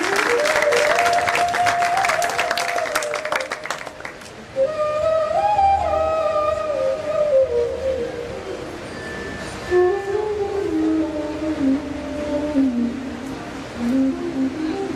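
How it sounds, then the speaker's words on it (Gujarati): An audience at a Jain diksha farewell ceremony claps in a dense burst of applause for the first few seconds. Sustained melodic tones, like music or singing, carry on after the clapping fades. "એવા યુગ દિવાકર શ્રીને આપણે તાળીઓથી ઓવારણા લઈને વધાવીએ"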